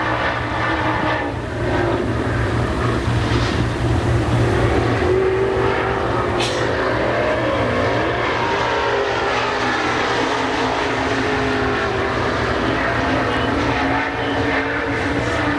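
A dirt race car roars through a qualifying lap at Pennsylvania Motor Speedway, its engine droning continuously and shifting pitch through the turns while faint crowd and announcer sound sit underneath.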